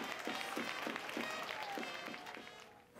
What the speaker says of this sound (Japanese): スタンドに集まった1000人を超えるファンの声援に応えました